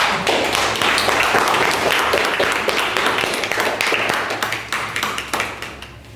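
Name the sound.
applause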